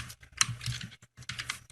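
Keystrokes on a computer keyboard while Java code is written, a close, irregular run of light clicks in short bursts separated by brief pauses.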